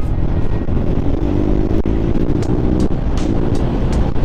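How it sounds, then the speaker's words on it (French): Scrambler motorcycle riding on the road, engine drone steady and loud under constant wind rush, with occasional sharp clicks and buffeting gusts throughout. "qu'on entende un petit peu le son de la moto et qu'on entende très peu le son du vent"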